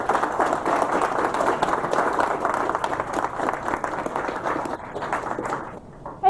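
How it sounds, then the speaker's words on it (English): A crowd at AMD's 2015 Financial Analyst Day applauds steadily for several seconds, a dense wash of clapping that tapers off at the end. "if you could give us a round of applause"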